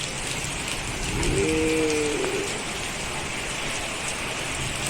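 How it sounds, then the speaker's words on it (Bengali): Steady, dense rain pours down in a constant wash of noise, with a brief low tonal call rising faintly in the middle. "এখন ঝমঝমিয়ে বৃষ্টি আরম্ভ হয়েছে"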